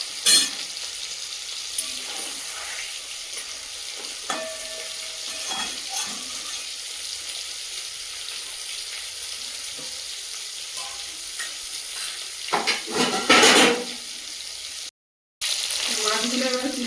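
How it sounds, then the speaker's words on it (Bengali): Large koi fish fry in oil for tel koi with a continuous soft sizzle and occasional spatula scrapes, growing louder near the end, with a brief drop to silence just before a final stretch of frying. "কই মাছটা আমি বেশি ভাজবো না, যেহেতু তেল কই হচ্ছে"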